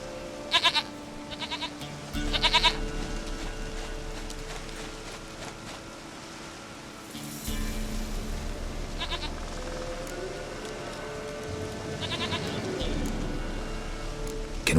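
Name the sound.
goat bleating in the video game The Witcher 3: Wild Hunt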